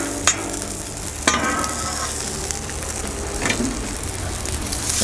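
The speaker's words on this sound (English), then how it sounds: "And let's get this bacon cooked up really quick." Bacon cooking on a Blackstone flat top griddle outdoors, a loud steady sizzle with a couple of sharp spatula scrapes and taps against the steel surface, close and without speech.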